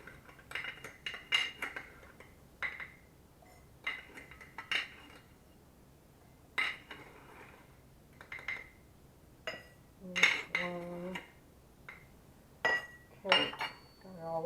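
Rice is scooped and measured into a glass jar for a freeze-dried beef and rice fajita meal, heard as a run of sharp clinks and rattles of a metal measuring cup and glass, spaced irregularly with quiet pauses.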